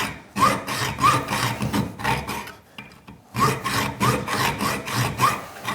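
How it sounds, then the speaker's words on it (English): A hacksaw cuts slowly through a small piece of tough tool steel, making close, rhythmic back-and-forth rasping strokes with a short pause in the middle before sawing resumes. "I'm, again, just going to do this with a hacksaw"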